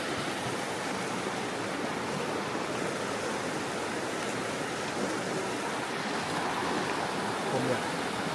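Water rushing steadily through a stream inside Kong Lor cave in Khammouane, Laos; a dense, continuous roar with no breaks that stays loud and close throughout.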